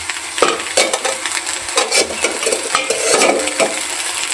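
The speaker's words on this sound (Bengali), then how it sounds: "এগুলো কিন্তু কিছুক্ষণ কিন্তু ভাজতে হবে" Green chillies, about a kilo, frying in oil in a wok (kadai), giving a steady loud sizzle with repeated scraping and stirring clatters throughout, no voices.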